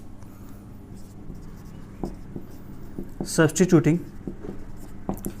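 Writing on a board during a maths lecture: scattered short taps, then a quick burst of scratchy strokes midway, with a single tap near the end, all under a speaking voice.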